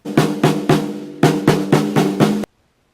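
Seven snare drum hits, loud and close, in a quick uneven pattern with a brief pause midway, each ringing with a buzzy tone before stopping abruptly.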